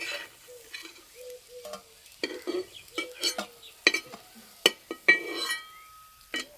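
Malpua batter made with milk fries in hot oil with a faint sizzle, broken by scattered clinks and scrapes of a utensil against the pan, with no voices.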